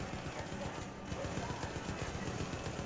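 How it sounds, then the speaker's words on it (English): Dense, continuous gunfire from a firefight in the first-person shooter Syndicate, a loud rapid rattle of automatic bursts running throughout with no pauses and no voices. "Can't hear what you're saying, there's gunfire."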